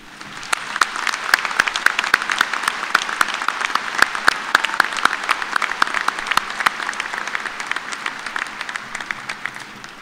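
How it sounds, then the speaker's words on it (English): A large commencement audience at a spring college graduation applauds family and friends, with dense sustained clapping at steady loudness across the whole stretch. "Will you please join me in a round of applause for them?"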